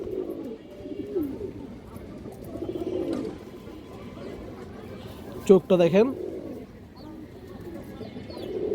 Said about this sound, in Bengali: অনেক সুন্দর কবুতর